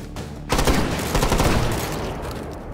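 Heavy gunfire with WW2 weapons including a shotgun, aimed at hot dogs outdoors: a loud sustained crackling roar of shots that begins abruptly after a brief pause and fills the rest of the clip.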